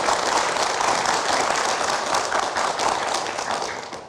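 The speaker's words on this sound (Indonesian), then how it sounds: "kita berikan tepuk tangan dulu" A studio audience on an Indonesian football talk show claps in a dense, continuous round of applause at steady loudness for the full four seconds, easing slightly at the end.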